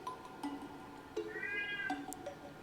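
A studio cat lets out a rising, drawn-out meow in the middle of a quiet indoor room, with a few soft thumps and shuffles around it and no talk.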